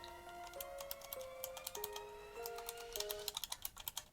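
Typing on a Hiwings HI300 one-handed mechanical keyboard fitted with Outemu blue switches: a steady run of sharp, clicky keystrokes, close and loud, that speeds into a quick burst near the end, with a faint tonal hum underneath.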